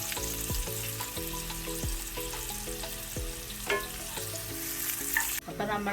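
Onions sauté in a pan until brown for a homemade tomato chutney, making a steady, fairly faint sizzling hiss beneath background music, with occasional stirring clicks and a brief spoken phrase.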